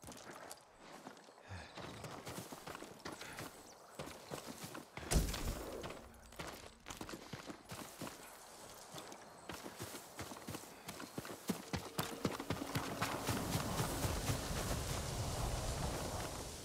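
A farm horse's hooves clip-clop at a walking pace in the video game Ghost of Tsushima, a steady run of light knocks over a faint background that grows busier toward the end.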